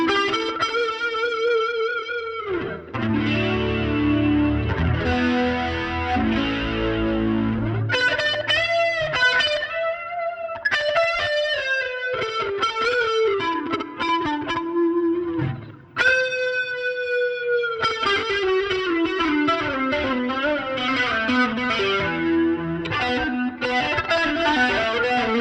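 A '93 Ibanez S electric guitar on its fifth pickup position through a Helix STOMP XL, playing mellow, chorus-tinged clean phrases with chords and single-note runs, steady and close, no voices.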